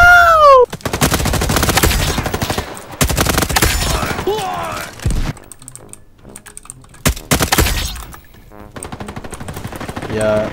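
Bursts of automatic gunfire from a suppressed gun in the game Roblox Call of Duty come in rapid clattering volleys with short gaps, alongside excited voices talking.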